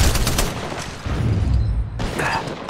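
Gunfire in Apex Legends Mobile on the Olympus map, a dense burst of rapid shots and booms that fills the clip, pauses briefly, then resumes with further loud volleys.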